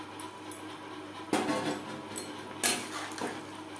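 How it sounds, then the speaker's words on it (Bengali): Fried prawns dropped into simmering gravy in a pan while making Bengali chingri malaikari, giving two brief, faint splashy clatters about a second apart against a quiet kitchen background. "2-3 মিনিট গ্রেভি বেশ ভালো করে ফুটিয়ে নেওয়ার পর দিয়ে দেবো ভেজে রাখা চিংড়ি মাছ"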